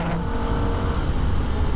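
Holden VF Ute at speed on a Nürburgring lap, a steady loud engine note held flat through a sweeping section, heard from inside with no voices.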